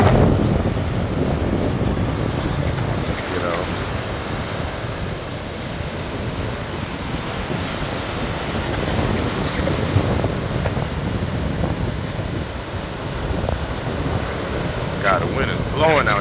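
Strong wind buffets the microphone at Ocean View Beach in Norfolk, Virginia, with a steady, loud roar that blends into the wash of surf and continues without pause.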